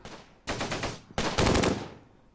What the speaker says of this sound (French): Ça tire de l'autre côté.